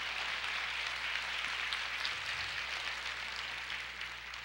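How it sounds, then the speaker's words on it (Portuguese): A church congregation claps steadily together in worship, a sustained wash of applause from a crowd that stays even and fairly soft before easing off slightly at the end. "vamos aplaudir ao Senhor"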